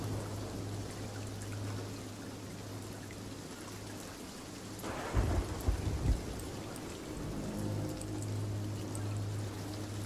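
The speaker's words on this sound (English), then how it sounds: "The storm's tearing apart the rowboat." Heavy rain pours steadily in a video game storm at sea, a low rumble underneath, with a loud crack and roll of thunder near the middle while waves toss a rowboat.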